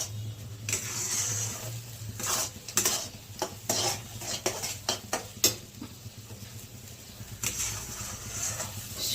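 Semolina roasts in ghee for halwa while a spoon scrapes and stirs it around a metal pan, giving repeated scraping strokes and clinks over a soft steady sizzle, close and fairly loud.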